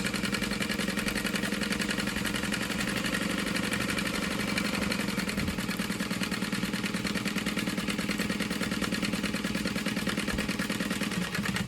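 Domestic sewing machine stitching along the edge of a small fabric clutch wallet, a steady, fast mechanical whirr with rapid needle ticking that runs continuously and evenly throughout.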